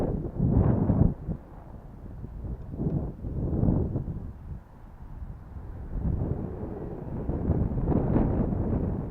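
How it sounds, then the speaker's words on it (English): Gusty wind buffets the microphone outdoors at a catapult-launch glider flying field, a low, heavy rumble that surges and fades in several strong blasts. "Wind's picking up."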